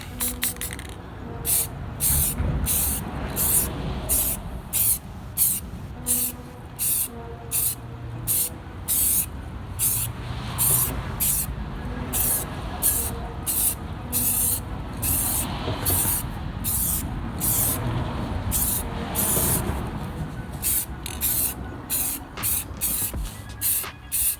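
Rust-Oleum spray paint hissing onto a taped-up wheel for a second coat, loud close bursts in quick rhythmic pulses, with clicks of the nozzle between sprays and no talk.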